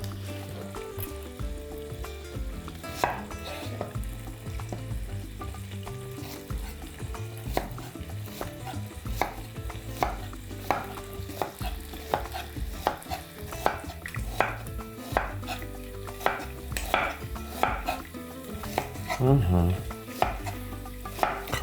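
A knife slices two onions into thin strips on a board for a quiche, with crisp, steady cuts in quick rhythm over the faint sizzle of ham browning in a pan.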